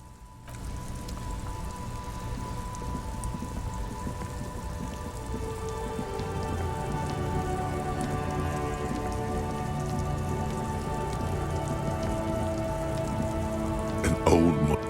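Rain falls steadily in the video game Disco Elysium, a constant soft patter on surfaces alongside low droning tones, with a short burst of clatter near the end.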